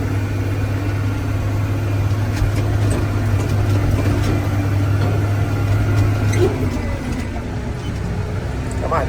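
Tractor engine chugging steadily while harrowing around the edge of a hillside field, a loud continuous low drone with faint clanks, with occasional talk in the background.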